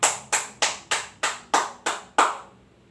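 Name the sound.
applause, hands clapping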